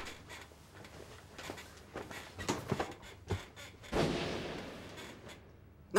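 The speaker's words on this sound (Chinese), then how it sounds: "那儿的枪声。" Gunfire in a Chinese wartime spy TV drama: several faint, scattered shots and thuds ring out at a distance over quiet background, with no voices.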